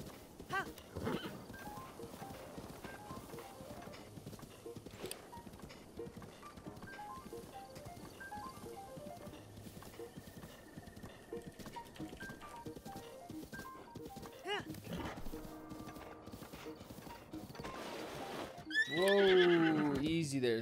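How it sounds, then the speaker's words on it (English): Horse neighing in the video game Breath of the Wild, a loud whinny bursting out near the end over steady game music and ambient sound, with someone talking throughout. "look at that dude's horse"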